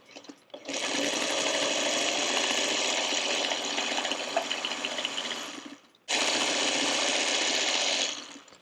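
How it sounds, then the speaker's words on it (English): A domestic sewing machine stitches quilt block pieces with a quarter-inch seam, running in a fast, even mechanical whir for about five seconds, stopping briefly, then whirring again for a shorter second run, close and alone. "now I'm going to take them over to my sewing machine, and I'm going to stitch a 1/4 inch next to that line"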